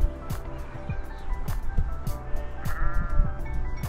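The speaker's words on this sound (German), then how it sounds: "Ja, ein paar Schafe hat es auch noch im Hintergrund." Several sheep bleat again and again in the background at the Matli campsite in the Göscheneralp mountains, over a steady outdoor hum, some calls near and others farther off.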